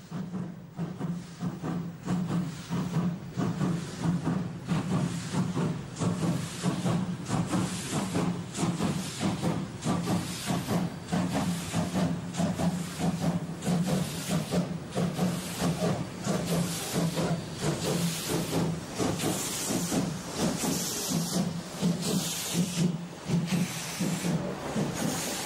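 A Reichsbahn class 44 steam locomotive, missing its middle cylinder, hisses steam steadily and loudly with a faint rhythmic chuffing pulse as it limps over the track, no talk.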